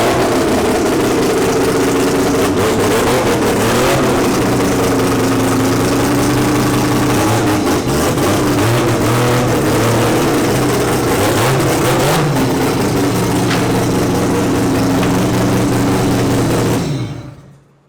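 Mazda RX7 drag car with its turbo disconnected idles close and loud, a steady, rough rotary drone with slight rev wobbles that holds for most of the stretch before cutting off abruptly.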